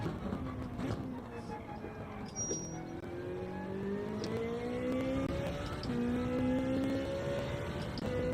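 Race cars lapping the Fuji circuit in a racing video game: several engine whines climb steadily in pitch and overlap in a continuous drone, with someone talking over them throughout.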